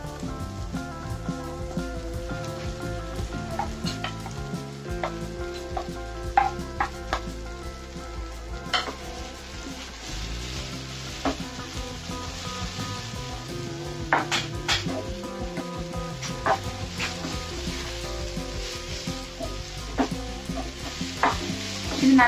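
Mushrooms sizzle steadily in hot oil in a pan while a utensil stirs and scrapes, with occasional clinks of metal against the pan.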